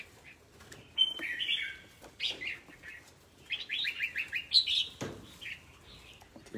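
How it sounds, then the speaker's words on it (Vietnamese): Bird chirping in short, bright high calls, scattered at first then a quick cluster of tweets, fairly close over a quiet background. "Chim to lắm."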